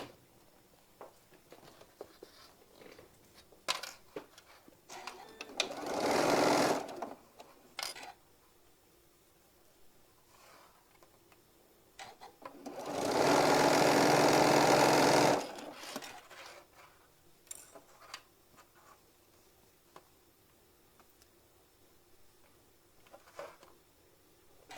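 A sewing machine stitches quilt block pieces in two steady runs, the first shorter and the second longer, with quiet handling sounds between them.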